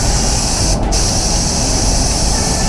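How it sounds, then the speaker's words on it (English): A steady, loud hiss of a spray gun misting paint at 2 bar, continuous with a brief pause in the middle. "They reckon spray it at 2 bar."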